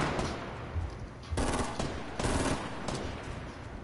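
Rapid gunfire in a video game, several loud bursts of shots close together over a few seconds.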